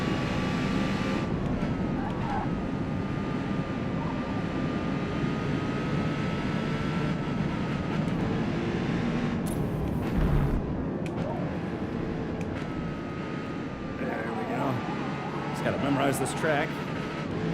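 Race car in the video game Forza Motorsport, its engine droning and revving through quick shifts over a long stretch of track, with someone talking over it.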